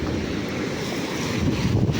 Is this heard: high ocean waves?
yes